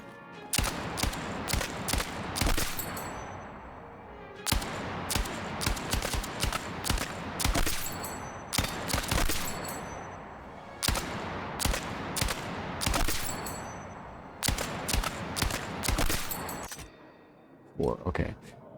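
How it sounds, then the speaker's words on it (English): Bursts of automatic fire from a belt-fed machine gun in a video game, loud and close, repeated in long rattling volleys with short pauses between them. "machine gun, or a belt-fed gun, where it's got the links, like this gun"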